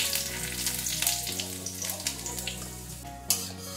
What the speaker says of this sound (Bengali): এবার আমি এতে ফোড়নের জন্য যা যা রেখেছি, জিরে, তেজপাতা আর শুকনো লঙ্কা, এটা দিয়ে দিচ্ছি